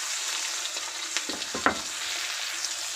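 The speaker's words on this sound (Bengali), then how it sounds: "কড়াইতে আমি দিয়ে দেবো চিংড়ি মাছ।" Salted shrimp fry in hot oil in a kadai for a Bengali shrimp dish, giving a steady bright sizzle with a few soft stirring knocks partway through. No one speaks.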